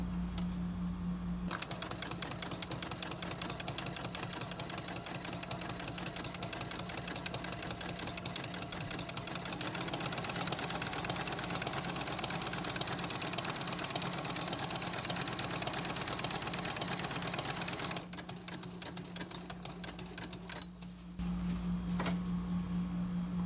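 A domestic sewing machine fitted with a flower presser foot stitches a wide buttonhole stitch, running in a fast, steady mechanical whir for most of the time before slowing and stopping near the end.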